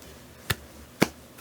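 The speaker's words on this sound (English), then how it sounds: "a little hand clap here" Two sharp hand claps about half a second apart, soft and close, over a quiet room.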